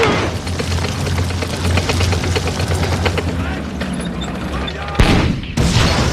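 Rapid bursts of gunfire and machine-gun fusillade in a World War II battle around Normandy in 1944 against German Tiger tanks, dense and continuous under narration, ending with a sharp boom.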